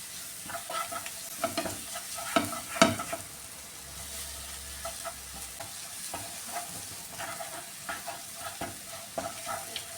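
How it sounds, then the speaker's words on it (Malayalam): Masala for a fish fry heating in a hot pan, a soft steady sizzle broken by irregular scrapes and taps of a stirring utensil, close and moderate in level, with no talking. "ഇനി ഇതിലിട്ട് നന്നായിട്ടൊന്ന് ചൂടാക്കി എടുക്കാമേ."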